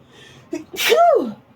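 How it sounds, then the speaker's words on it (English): A single loud, close sneeze, a short intake of breath and then a sharp explosive burst trailing off into a voiced tail. "I sneezed into my armpit"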